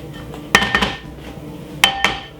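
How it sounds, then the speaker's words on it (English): A utensil clinks against a bowl while butter, garlic and mixed herbs are stirred together for Christmas roast chicken seasoning, giving four or five sharp close taps in two small clusters over quiet background. "give it a nice lovely mix up with the butter and the garlic and also the mixed herb"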